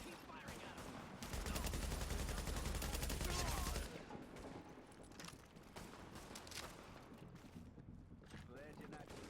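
Sustained automatic gunfire in the shooter Tom Clancy's The Division, a dense rattling burst lasting a few seconds, followed by scattered shots and combat noise beneath voices.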